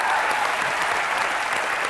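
A TV comedy studio audience applauds musicians with dense, steady clapping that holds at full strength for two seconds, close and continuous, with no voices over it.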